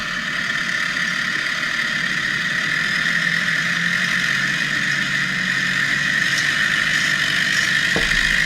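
Tractor engines strain together while pulling a stuck tanker tractor free with an old chain, a steady loud mechanical drone with a high whine and a sharp knock near the end.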